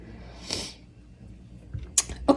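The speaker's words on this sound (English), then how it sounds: "I don't know why I'm sniffling a little bit." A person sniffles a few times at close range, with one sharp burst near the start and short nasal sniffs toward the end, heard alone without talk.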